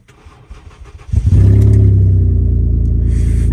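A crashed Ford Escape cranks for about a second before its engine catches and settles into a loud, steady idle close by.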